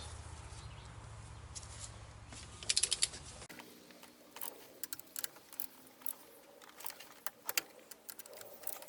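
Clicking ratchet and wrench mechanism while head gasket bolts on a Mopar 2.0L engine in a Plymouth Breeze are torqued, with light, intermittent metallic clicks and ticks at close range after a brief burst of louder noise.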